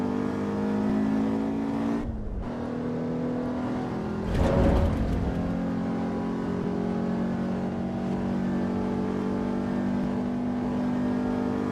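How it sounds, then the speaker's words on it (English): Racing car engine in Assetto Corsa Evo drones steadily and loud throughout, holding a sustained tone with a brief dip near two seconds and a louder burst of revving around four to five seconds. "I forgot about the engine sound"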